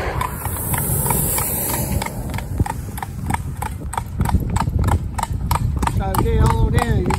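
Horse hooves clip-clop steadily on a wet road, a close, regular clatter of shod strikes over a background of running water and faint talk, with a brief neigh near the end.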